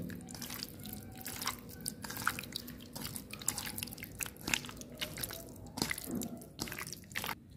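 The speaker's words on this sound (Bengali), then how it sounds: "এবারে আমি হাতের সাহায্যে খুব ভালো করে ম্যারিনেট করে নেব।" Chicken pieces are worked by hand with yogurt and spices for pakora, giving soft, wet squishing and squelching with small drips and clicks. The sound is close and quiet.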